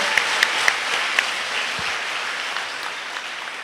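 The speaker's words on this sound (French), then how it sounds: "Et vous pouvez les applaudir bien fort!" An audience at a school awards gala claps loudly and continuously, with a few sharper claps standing out early on before the applause slowly tapers.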